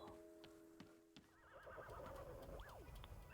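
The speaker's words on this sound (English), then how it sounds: "I hear a horse." A horse whinnies in the video game Wanderstop, a rising-and-falling neigh heard fairly faintly over soft ambient game music and light ticking sounds, with no talking.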